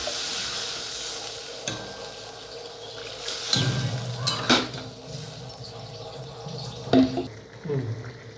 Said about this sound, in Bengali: এবার এর মধ্যে আমি একটু জল দেব আলুগুলো সিদ্ধ হবে